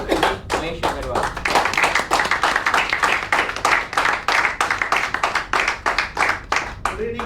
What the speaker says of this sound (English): Please welcome with a big round of applause our World Master colleague Mahesh Agarwal.